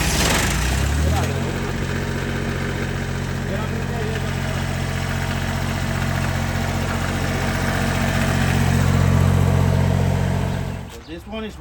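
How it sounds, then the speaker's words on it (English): Rental equipment engine, likely a generator, cranks and catches, then runs at a steady loud idle for about ten seconds before cutting off near the end. "we're gonna connect the battery and see if it starts and it's producing power and the lights is working"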